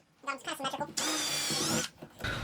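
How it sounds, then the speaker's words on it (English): A power drill bores holes through a kayak hull, running in a steady high-pitched whine for about a second after some brief handling noises, then stopping, with a short thump at the end. "let's go ahead and drill the back holes"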